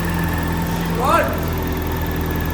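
Ford Mustang SVO engine running after a new fuel pump install, a steady continuous drone throughout, close and fairly loud, with a brief rising whine near the middle.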